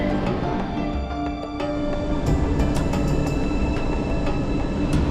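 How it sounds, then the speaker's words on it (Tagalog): Inside a moving MRT-3 metro train along EDSA in Manila: a loud, steady rumble of wheels on rails with rhythmic clicks and a rising mechanical hum. "At sumakay ng MRT-3 sa EDSA para makarating sa Quezon City."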